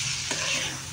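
Thin mango slices fry with salt, turmeric and chili powder, a soft close sizzle broken by a brief stir of the pan.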